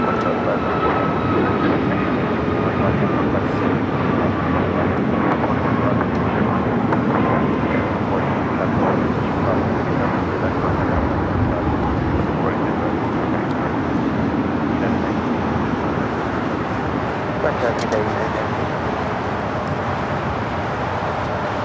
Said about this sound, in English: You can hear the news choppers in the background.